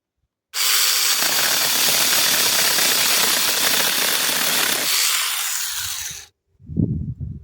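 A small mini chainsaw runs loud and steady for several seconds, buzzing continuously as it cuts wood, then cuts off abruptly, followed by brief knocking and handling.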